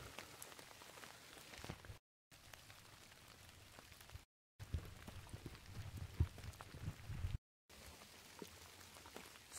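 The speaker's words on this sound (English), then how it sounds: "Wish it wasn't raining." Rain falls steadily on forest trails near a Nike missile site in Connecticut, a soft continuous patter of drops with a few louder close hits, broken by short gaps of silence.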